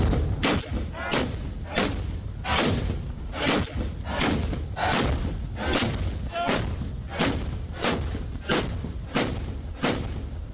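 Deep booms strike over and over at a steady pace, each a heavy thud over constant crowd noise, from a ceremonial 21-cannon salute.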